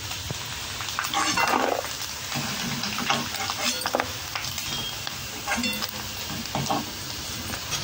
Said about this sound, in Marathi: आता 2 मिनटं तळून घ्यायचं, गॅस मात्र मीडियमच ठेवायचा